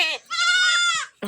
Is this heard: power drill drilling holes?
no